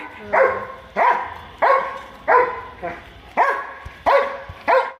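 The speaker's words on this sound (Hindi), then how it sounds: "ये तो बस इनके पीछे ही भौंकती रहेगी, उसको भौंकती है।" A pet dog barks repeatedly in a home, about seven sharp, evenly spaced barks close to the listener, with a voice talking faintly between them.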